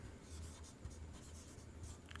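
Chalk or marker scratching across a board during a reasoning lesson on syllogisms, a faint, steady scraping close by with no voices.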